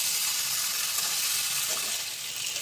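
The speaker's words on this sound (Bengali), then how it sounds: "সয়াবিনটা দিয়ে কিছুক্ষণ কষিয়ে নেব।" Soybean chunks frying in a pan, a steady, even hiss of sizzling oil that stays constant throughout with no talking.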